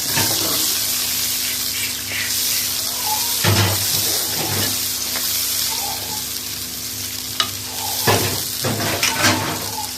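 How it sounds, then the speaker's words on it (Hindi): Finely chopped medium onions sizzle and fry steadily in hot ghee in a pan, a continuous loud crackle with occasional stirring clatters and sharper pops. "घी जब गरम हो जाएगा तो फिर हम इसमें 3 से 4 अदद मीडियम साइज़ के बारीक कटे हुए प्याज डाल देंगे और प्याज़ों को हम फ्राई करेंगे।"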